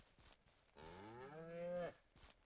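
A single long cow moo from Ranch Simulator, rising and held for about a second before cutting off, clear and close with quiet game ambience around it.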